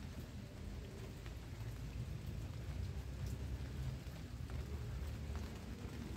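Rain falls steadily on outdoor succulent plants in a dense, even hiss with a low rumble underneath, continuous and fairly close, with no talk.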